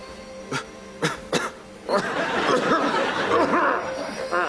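A man coughs in a comedy sketch: three short, sharp coughs in quick succession, then a longer, denser stretch of voices that may include laughter.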